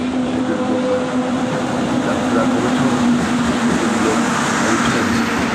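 Continuous loud rumbling and rattling of a moving passenger train, steady and close, with a faint hum running through it.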